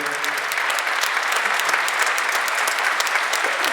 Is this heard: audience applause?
yes